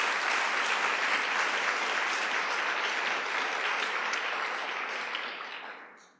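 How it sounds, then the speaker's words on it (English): An audience at a talk about the exhibition "Italian Style: Fashion Since 1945" gives supporters a round of applause, steady full clapping that fades out at the end. "Let's give them a round of applause for their support."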